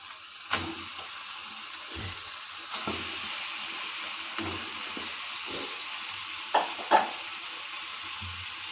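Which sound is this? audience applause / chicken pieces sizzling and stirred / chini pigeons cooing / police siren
chicken pieces sizzling and stirred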